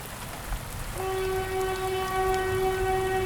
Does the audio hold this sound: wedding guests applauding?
no